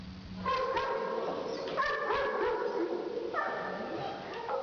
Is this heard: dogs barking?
yes